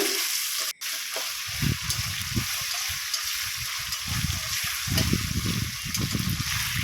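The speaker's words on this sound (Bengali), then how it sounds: "এই সেই ইলিশ মাছটা দিয়ে খুব সুন্দর করে নেড়ে চেড়ে ভেজে নেবে" Salted hilsa fish stir-fried with onions in a pan: a steady bright sizzle with repeated low, wet stirring thumps and scrapes, close by and without talk.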